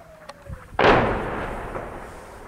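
An artillery shell striking the town of Al-Lataminah in the northern Hama countryside: one sudden loud blast after a brief quieter lead-in, followed by a long rolling rumble that slowly fades, with no speech.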